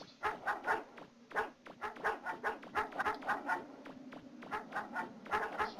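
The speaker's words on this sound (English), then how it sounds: "Oh my goodness, these dogs are so aggressive." Aggressive dogs in Mega Man 64 bark over and over in quick, rhythmic bursts, fairly close and clear, with short pauses between clusters of barks.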